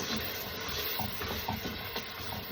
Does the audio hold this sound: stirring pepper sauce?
yes